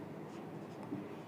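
Marker or chalk scratching across a board during a Class 12 maths lesson on matrix multiplication, a faint, continuous scraping stroke that runs alone at low level throughout.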